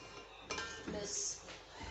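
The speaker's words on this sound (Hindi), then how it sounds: "अब हम इसमें डालेंगे अपने ये आम" Raw mango pieces tumble into a pot of sugar and cinnamon for murabba, giving a few close clinks and soft knocks against the metal pot over about two seconds with faint background noise.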